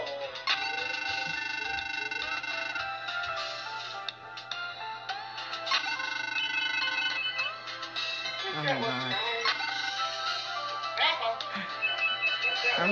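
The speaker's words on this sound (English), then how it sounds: "I don't think I've heard a phone ring like that before." A phone ringtone plays as a bright, repeating electronic melody, loud and sustained, with a voice talking over it at times.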